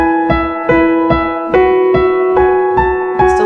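Piano with a steady, evenly spaced left-hand pulse under sustained right-hand chords, played from a worship song; about eight clear, close attacks in a straight, unsyncopated rhythm.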